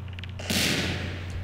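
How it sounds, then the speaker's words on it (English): A grenade explodes in the video game Half-Life 2, a sudden broad blast that lingers in a rumbling, noisy decay over a low steady hum. "You drop the grenade and run."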